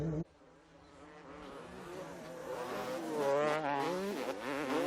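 Motocross bikes, among them a Yamaha, racing in an EMX2t race at the MXGP of Russia, a chorus of high revving engines rising and falling in pitch as riders pass, fairly distant with no talk.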